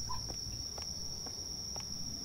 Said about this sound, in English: Are those even crickets? They're probably cicadas.